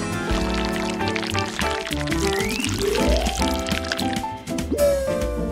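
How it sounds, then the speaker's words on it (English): Cake batter pours from a container into a foil-lined pan, a steady, fairly loud liquid flow with gurgles and drips, set over upbeat background music. "Now we can pour the batter."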